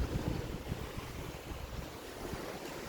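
Sea waves at a beach chalet in Kuwait wash in with a broad, steady rumble, joined by gusts of wind buffeting the microphone, and no voices are heard.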